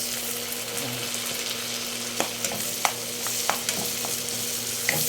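Shrimp paste fries with pork and tomatoes in a pan, giving a steady sizzle with scattered sharp clicks and scrapes of stirring, close by and without talk.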